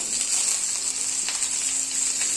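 Chopped onion with dried red chillies sautéing in a hot pan, a loud, steady hiss of frying throughout with no talking.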